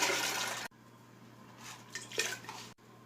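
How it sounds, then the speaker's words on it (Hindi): Lentils are poured into a pot holding five glasses of water, giving a loud, rushing pour for the first moments, then softer splashing and trickling before a brief final burst. "इसमें दाल डालेंगे।"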